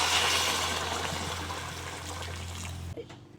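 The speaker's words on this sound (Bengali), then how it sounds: "এখন দিয়ে দিচ্ছি জল" Water pours steadily into a pan of okra and potato curry with fried spices, a loud rushing trickle that fades gradually and stops abruptly near the end.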